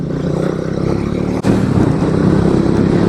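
A Speed 400 motorcycle accelerating hard, with a steady, loud engine drone heard from on board, a brief dip like a gear change halfway, then pulling again.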